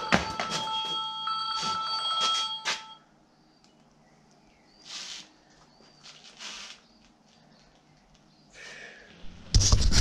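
A mobile phone rings in a home workshop, bright repeated tonal bursts in the first few seconds followed by quieter chirps and a loud burst at the end, with no speech.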